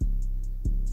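A second Afrobeat percussion loop made in FL Studio, shifted in timing for swing, plays two low thumps with light ticking hits between them, alone and fairly loud.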